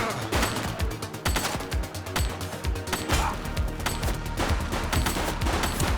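Sustained gunfire in the police video game The Precinct, dense rapid bursts like automatic weapons mixed with single shots, loud and continuous throughout with a busy action backdrop.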